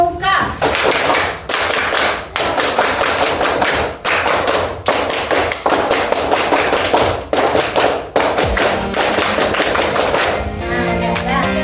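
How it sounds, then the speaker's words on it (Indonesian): A group performs three rounds of Indonesian scout clapping (tepuk pramuka), loud rhythmic bursts of claps split by short pauses, with a brief lull and lighter sounds near the end. "3 kali tepuk pramuka."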